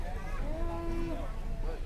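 A white cow at a cattle contest in Lampung gives a single drawn-out moo over steady crowd and voice noise, with people talking nearby throughout.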